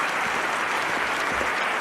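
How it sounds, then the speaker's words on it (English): Dense, sustained applause from a large stadium crowd acknowledging an athlete's attempt at the London 2012 Olympics, loud and even throughout with no pauses, no voices clearly standing out. "the crowd are acknowledging this athlete"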